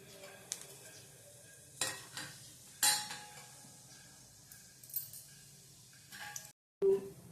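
Cumin seeds sizzling in a pan, the faint frying mostly covered by scattered spoon scrapes and clinks against the metal, with brief gaps of near silence.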